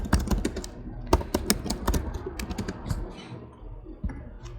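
Rapid close keystrokes on a Mac computer keyboard typing a search into Safari, a quick run of clicks that thins out and slows toward the end, with no talk.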